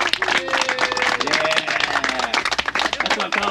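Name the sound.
group applause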